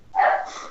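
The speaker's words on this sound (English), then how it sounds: "I'm gonna shoot that fucking dog" A dog gives a single loud, close bark that lasts under a second, with no voices over it.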